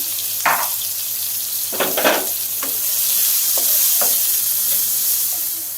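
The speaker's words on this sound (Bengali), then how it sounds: "তেলের মধ্যে আমি পেঁয়াজ চামচ রসুন দিয়ে কুচি করে রেখেছিলাম, সেটা দিয়ে দিলাম।" Chopped onion and garlic frying in hot oil in a wok, a loud bright hissing sizzle broken by several bursts of stirring and spatula scrapes, close up with no voices.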